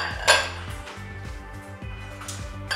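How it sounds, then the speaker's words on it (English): Mixed nuts for a plant-based vegan nutburger tossed together into a big bowl, making a short, bright clatter early on, with music playing underneath. "So we're going to throw all of our nuts in here together."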